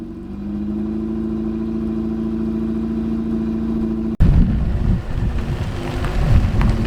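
A silver Alfa Romeo 33 engine hums steadily, then an abrupt cut leads to louder, rougher engine noise with wind buffeting as the car drives past nearby.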